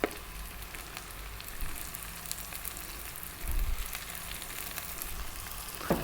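Cauliflower rice frying on high heat in a pan, giving a continuous soft sizzle at moderate level, with brief louder surges of crackling as the pan is stirred, and no voices.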